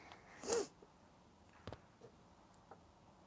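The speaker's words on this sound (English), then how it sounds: "Aussies sneezing up a storm." A single sharp sneeze bursts out near the start, loud and close, followed by a few faint small sounds in a quiet room.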